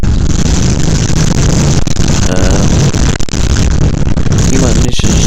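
Go-kart engines racing around a hairpin at the Teamsport Sheffield indoor track, a loud continuous buzzing drone with heavy wind rumble throughout.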